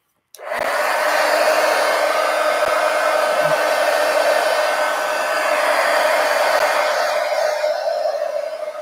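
A hair dryer drying black paint on the edges of a handmade ink journal runs as a loud, steady whoosh and hum from switch-on to the end, close and continuous with no talking.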